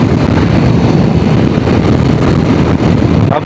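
Loud, steady wind roar buffets the microphone while riding a Himalayan 450 motorcycle on the road toward Kashmir, a continuous broadband rush with low rumble and no break across the whole stretch.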